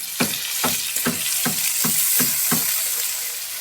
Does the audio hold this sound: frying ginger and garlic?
yes